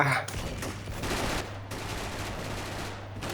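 Continuous G36C rifle fire in the SF Mobile shooter game, a dense, loud, unbroken burst of rapid shots lasting several seconds with only a brief dip in the middle.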